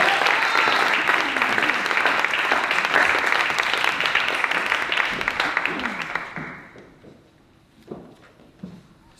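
A conference audience at a 2017 small business summit applauds to welcome speaker Paul Wong. Dense, loud clapping holds steady for about six seconds, then thins out and fades to a few scattered claps.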